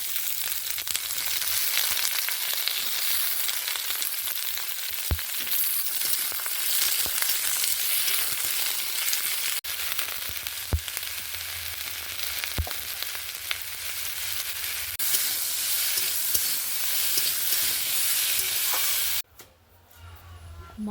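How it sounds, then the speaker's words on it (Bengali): Food frying in a pan on a home kitchen stove: a steady, loud sizzle with occasional stirring clicks, ending abruptly. "রান্নাঘরে এসে বসিয়ে দিয়েছি রান্না।"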